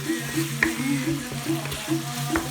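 Chicken tortilla filling simmers and sizzles in a pan, a steady close crackling bubble with small pops and occasional light stirring knocks throughout.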